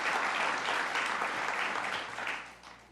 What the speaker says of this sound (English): Let's give a round of applause for Camille.